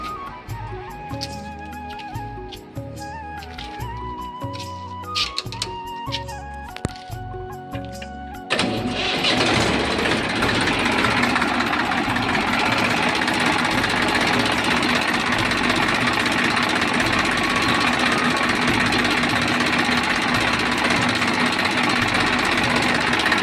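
A New Holland 3230 NX tractor engine, old Gujarat tractor, cranks with mechanical clatter and then catches into a loud, steady diesel roar that holds unbroken and close.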